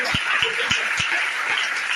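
A congregation claps during a church service, a steady dense wash of applause with a few low thumps at regular intervals beneath it.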